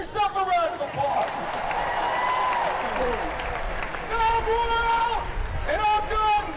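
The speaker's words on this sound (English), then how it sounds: "Give yourself a round of applause." A crowd at the Baylor Bears national championship parade applauds and cheers, with sharp whistles cutting through in repeated bursts, loud and close.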